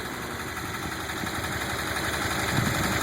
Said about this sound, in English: Good solid running motor.